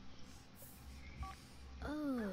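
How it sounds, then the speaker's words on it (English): A cell phone is dialed in the life-simulation game The Sims 4, giving a short electronic tone burst near the end over a steady background game ambience, with no talking. "Nanny Grace is going to give TikTok a call on her cell phone."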